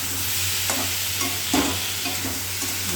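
Ridge gourd fries and is stirred in a pan, a continuous close sizzle with a few soft scraping strokes of the spoon breaking through.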